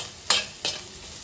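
An onion mixture with a pinch of turmeric powder fries softly in a pan, a low sizzle broken by two quick stirring scrapes close by.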